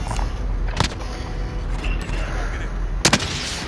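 Sniper rifle fire in a shooter game, heard as two sharp, loud isolated cracks spaced a couple of seconds apart over a steady background of game ambience.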